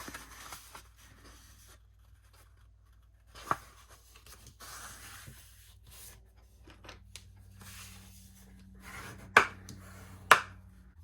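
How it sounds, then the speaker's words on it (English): A sheet of paper for a handmade gatefold album is folded in half: quiet rustling and handling with a few sharp creasing snaps near the end, close and clear with no voices. "we are going to fold this one in half, okay? Fold this one in half."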